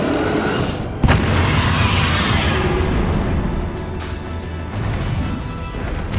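The Depulso spell from the game Hogwarts Legacy strikes with a sharp, loud booming crash, followed by a rumbling, roaring wash of battle effects that stays dense and heavy throughout.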